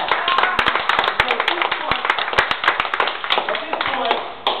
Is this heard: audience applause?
yes